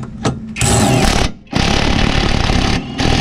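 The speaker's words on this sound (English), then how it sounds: "let me just jack it up a little bit" A car jack raises a Honda Civic during a rear disc brake conversion, giving loud, rough mechanical grinding and rattling in two sustained bursts separated by a short pause, then a brief third burst.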